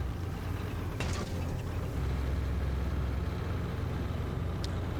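Own vehicle's engine idling in a military video game set in Russia, a steady low rumble holding throughout with faint mechanical clicks and rattles on top, no talk.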